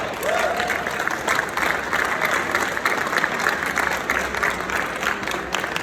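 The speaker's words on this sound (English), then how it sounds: "can we hear a big round of applause?" Audience members at a fintech startup award ceremony give a sustained round of applause for three winning teams, dense even clapping that stays steady from start to finish.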